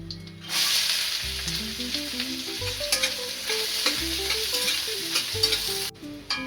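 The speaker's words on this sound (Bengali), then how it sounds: "এখন আমি পেঁয়াজটা দিয়ে ভেজে নেব" Chopped onions sizzle steadily in hot oil with whole garam masala for a Bengali egg pulao, a bright continuous hiss with scraping stirs over a low rhythmic music bed, close and loud.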